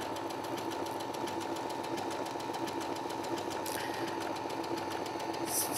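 Sewing machine stitching appliqué with variegated thread, a steady rapid mechanical hum and needle clatter running continuously at close range.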